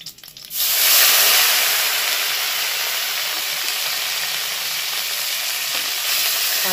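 Onion, ginger and green chilli paste hits hot oil with five-spice seeds in a pan, bursting into a loud, sustained sizzle after a brief quieter moment, close and continuous.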